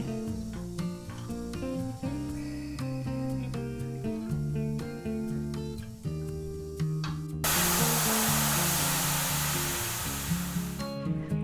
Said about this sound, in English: It's full of pressure, so we're going to release the valve